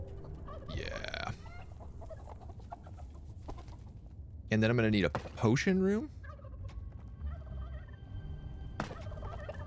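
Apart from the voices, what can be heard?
chickens clucking and gobbling in Dungeons 4 video game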